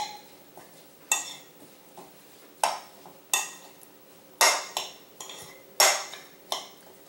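Salad of caramelized onions, shiitake mushrooms, ginger and cooked dino kale tossed together in a bowl, giving about a dozen sharp clinks and scrapes of utensils against the dish at an uneven pace, close and clear over quiet.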